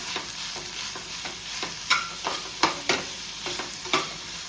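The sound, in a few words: stirring tomatoes into egg bhurji in a pan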